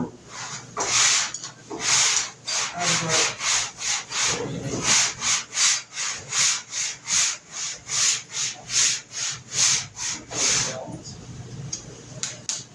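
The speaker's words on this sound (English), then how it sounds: "sanding Bondo" Rhythmic back-and-forth scraping of sanding Bondo body filler on a car body, about two strokes per second, close and loud, with occasional talking mixed in.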